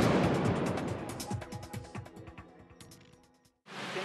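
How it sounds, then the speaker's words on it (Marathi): A controlled underground blast for the Koyna lake tapping project, set off by an exploder, gives a deep rumbling boom with rolling low crackles that slowly fade before a brief silence and a return of background noise. "एक्सप्लोडरचं बटन दाबताच"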